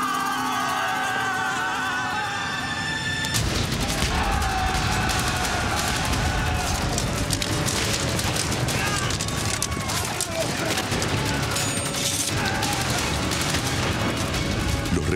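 Loud, continuous battle noise with rumbling artillery and rattling gunfire, a voice shouting over the din, dense and close throughout.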